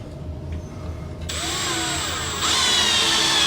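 A power drill drives screws into a shower fitting. It starts after a quiet moment with a whining motor that holds steady and then climbs louder for the last second, close and with no talking.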